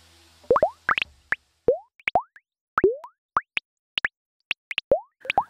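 Synthesized liquid bubbles pop one after another at random intervals, each a short upward-sweeping plop at a different pitch, clean and close with silence between them.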